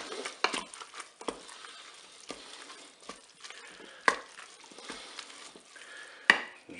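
Spoon stirring ingredients with mustard and tomato paste in a Cookeo multicooker pot, soft scraping and sizzling with several sharper clacks of the utensil against the pot, steady and close, no voices.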